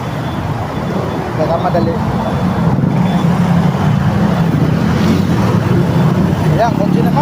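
Road traffic of cars and motorcycles rolls past in a constant nearby rumble and hiss, with someone speaking briefly over the noise.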